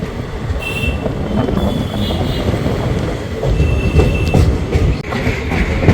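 Heard from inside an AC chair car of the 13187 Maa Tara Express running from Sealdah to Tarapith Road, the train gives a loud, continuous rumble of wheels on rails, with rhythmic clatter and thin metallic squeals coming and going.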